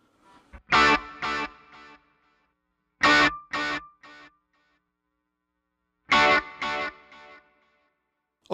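Electric guitar through an Axe-Fx processor with reverb engaged plays three clusters of quick chord stabs separated by pauses, each decaying into a tail, heard alone.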